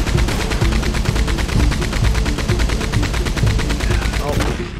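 Rapid, continuous gunfire from the video game Red Dead Redemption 2, loud and close, with shots rattling in a dense, steady stream for several seconds.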